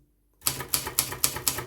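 Keys strike on a Silver Reed manual typewriter, six crisp metallic clacks in an even, quick rhythm after a brief silence, close and clear with no talking.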